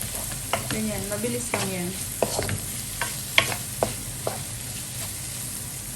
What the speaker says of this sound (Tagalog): halu-haluin mo lang siya para sabay-sabay na silang maluto